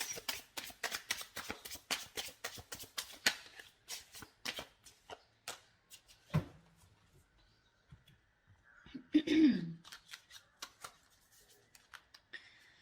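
A tarot deck is shuffled by hand with a quick run of crisp riffling clicks for about six seconds. Sparser card handling and a brief soft voice sound follow in a quiet room.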